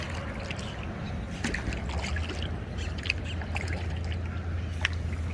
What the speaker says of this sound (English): You see that splashing?